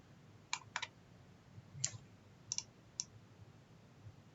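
Computer keyboard typing commands into CAD software, a few faint, sparse clicks and taps in small clusters against a quiet room background.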